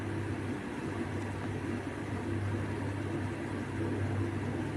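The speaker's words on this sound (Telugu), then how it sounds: "ఇప్పుడు ఇందులో నేను ఉల్లిగడ్డలు కూడా వేసి వేయించుతున్నాను" Onions frying in a pan with bitter gourd (karela), a continuous dense sizzle that holds evenly throughout, close and fairly loud with no talking.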